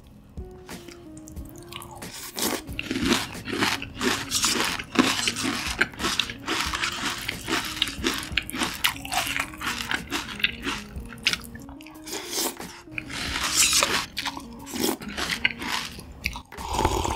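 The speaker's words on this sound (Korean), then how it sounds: "시리얼 오랜만에 먹는데 진짜 맛있을 것 같아요" Crunchy cereal being eaten up close, with a steady run of bites and chewing crunches, moist squishy chews between them, and no talking.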